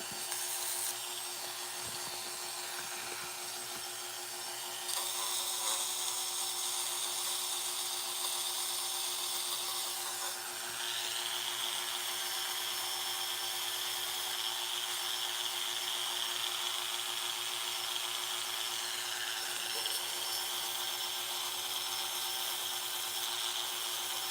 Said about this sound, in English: I'm also using 400 grit sandpaper for this step.